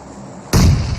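A bomb going off in PUBG Mobile: after a quiet half second, a sudden loud close blast hits hard and then holds as a heavy rumbling roar.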